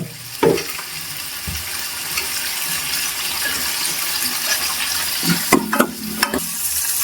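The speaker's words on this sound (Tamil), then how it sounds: "சின்ன வெங்காயமும் நல்லா வதக்கி விட்டுக்கலாம்" Small onions sautéing in a pan for vathal kuzhambu, a continuous hissing sizzle with a few clattering stirs and utensil knocks near the start and toward the end, close by and with no talk.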